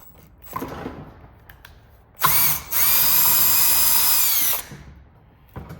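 A power driver whirs as it unscrews an Allen bolt from a broken air compressor, a short burst followed by a longer steady high-pitched whine, with faint handling clicks before and after.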